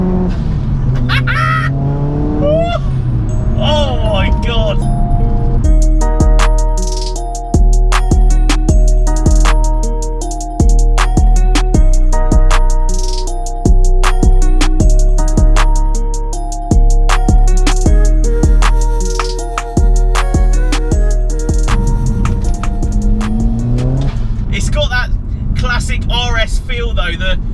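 A 355 bhp hybrid turbo Ford Focus RS accelerates hard on boost, the engine droning loudly through repeated rising pulls with sharp gear-change breaks, heard from inside the car while a person briefly exclaims.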